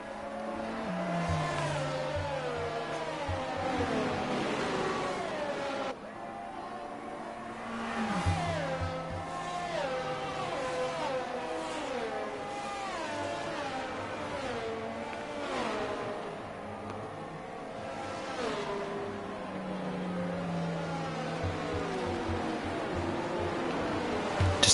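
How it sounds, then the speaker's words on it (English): A Mercedes safety car in an F1 racing video game at Jeddah revs hard and continuously, its engine note climbing and dropping through gear changes with occasional tire squeal, loud and close with no voices. "the engine sounds of the Mercedes safety car is actually better than the engine sounds of the actual F1 cars"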